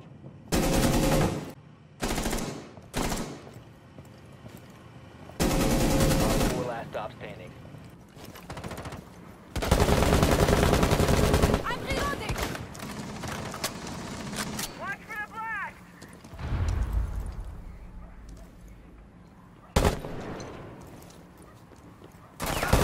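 Shotgun and sniper fire in a video game comes as loud, separate bursts of gunfire with pauses between them, and brief voice sounds occur in places.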